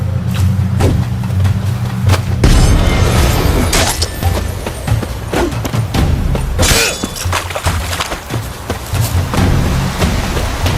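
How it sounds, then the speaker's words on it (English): A bomb thrown and exploding in The Witcher 3: Wild Hunt on PlayStation 4, a loud shattering burst with thuds and debris amid dense game combat noise, no voices. "Boost and throw a bomb."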